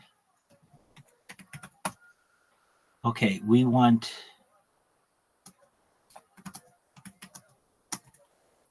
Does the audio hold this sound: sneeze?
no